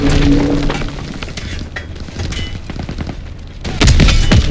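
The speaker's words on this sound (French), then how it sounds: "Panzer Shrek nous tire dessus!" Rapid gunfire and heavy explosive blasts from a Call of Duty WWII battle, with Panzerschreck rockets among the shots. Dense, loud volleys run throughout and swell into a harsher burst near the end.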